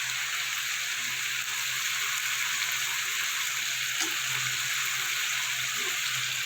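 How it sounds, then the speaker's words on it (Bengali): Onions fry in a pan with turmeric added, making a continuous, even hiss of sizzling oil that stays steady and close throughout, with no talking. "পেঁয়াজটা আমার কিছুটা ভাজা হয়ে গেছে, এবার আমি দেবো স্বাদ মতো হলুদ।"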